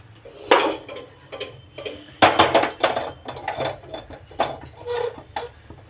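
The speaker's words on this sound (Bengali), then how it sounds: "চলুন তো কড়াটা এবার বসাই, গ্যাসটা জ্বালাই।" A wok being set down on a gas stove, with loud metallic clanks and rattles of pots and utensils in a home kitchen, several sharp knocks spread over a few seconds.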